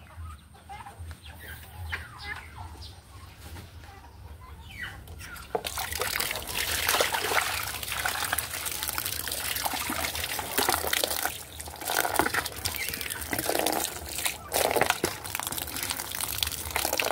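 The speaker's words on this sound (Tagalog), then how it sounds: "napalitan na po natin ng tubig yung ating pong mga lalagyan ng tubig, mga inuminan po nila." Water trickles and splashes into turkeys' drinking containers on a small farm, a steady pour that starts louder partway through, with clucking fowl around it.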